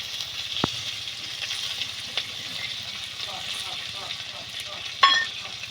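Bay leaves, chopped onion and whole garlic cloves fry softly in a pan, a low steady sizzle with occasional scrape and clatter of stirring, fairly faint.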